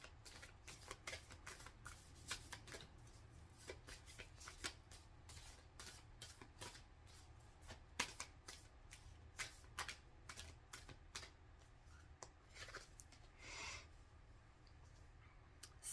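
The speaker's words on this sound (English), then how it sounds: "Let's do a quick shuffle and take a oracle card from the White Light" A White Light Oracle card deck is shuffled in a run of crisp, rapid riffles and flicks of cards that are quiet and close by, with no talking.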